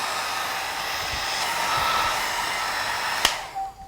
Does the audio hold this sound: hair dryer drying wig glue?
yes